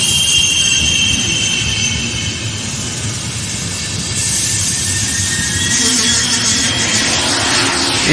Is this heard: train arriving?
yes